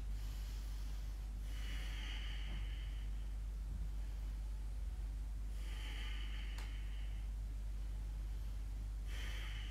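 Slow, steady yoga breathing during a twisted side-angle pose, heard as several soft, drawn-out breaths spaced a few seconds apart over a low, constant background hum, with no talking.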